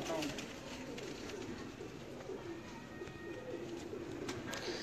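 Pigeons coo steadily and softly throughout, layered over a constant low rumble of outdoor background noise with faint voices in the distance.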